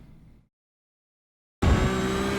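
A Porsche 992 GT3 Cup race car in iRacing at Fuji cuts out briefly to near silence, then its engine bursts back in at full throttle with a loud, steady, close-up roar.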